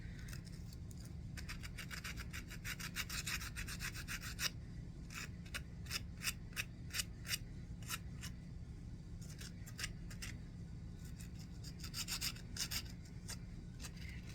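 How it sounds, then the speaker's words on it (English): P50 grit sandpaper rasps against the small legs of a soapstone starfish in short repeated strokes, quiet and close, with bursts of scratchy rubbing separated by brief pauses. "going in with the P50 grit to start off with, and I'm sanding down the little legs of the starfish"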